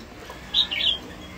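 A caged, wild-caught hwamei songbird gives a brief, bright two-part call, a short squawky chirp followed by a quick trill, heard fairly close against a quiet steady background with no talking.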